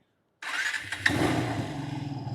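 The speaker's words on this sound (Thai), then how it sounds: "เดี๋ยวเรามาลองฟังเสียงรถคันนี้ดูนะครับ สตาร์ทมือนะครับ" A Kawasaki W175 motorcycle is started with the electric starter after a moment of silence, a brief crank, then the engine catches and settles into an even, close, steady idle.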